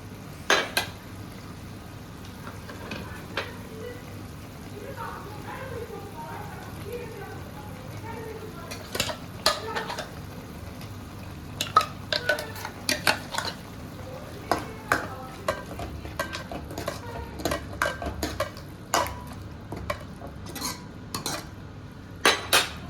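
Metal utensil scrapes and clinks in a pan as ground masala is stirred into a boiling mutton fat gravy, with a steady low bubbling underneath, irregular taps growing busier toward the end.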